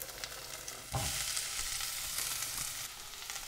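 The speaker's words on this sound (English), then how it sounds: "Swirl that around, and then in go my onions and also my peppers" Onions and sweet peppers dropped into just over a tablespoon of hot oil, the sizzle jumping suddenly louder to a steady, close, bright frying hiss, with no talking.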